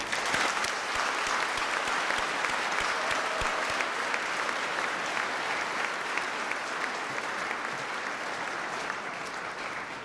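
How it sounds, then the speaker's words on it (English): Audience applause at a 2018 high school Veterans Day event, a sustained, even wash of many hands clapping that holds steady for the whole stretch without voices over it. "Please join me in a round of applause to thank them."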